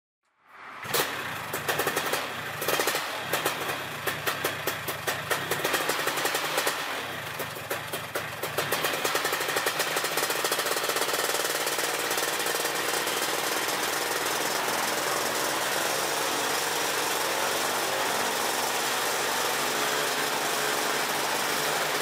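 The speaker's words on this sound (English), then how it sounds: "the engine didn't quit when the throttle was advanced, and it ran much smoother." A Polini THOR 250 engine, freshly carburetor-tuned, starts and runs loud and close, with rapid hammering firing pulses that settle into a steady, even drone as the throttle holds.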